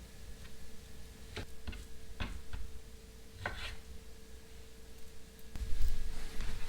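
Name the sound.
knife trimming fat off beef steak pieces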